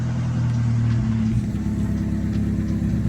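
Engine of a cheap project car running with no muffler, a loud, raw, steady drone with a deep low rumble, slight revs early on, then a rough, uneven idle.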